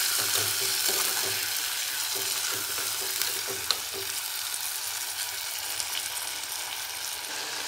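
Shallots, green chili and large tomatoes fry in a pan for a turkey berry kulambu, giving a continuous sizzle with spoon-stirring scrapes and a brief clack partway through.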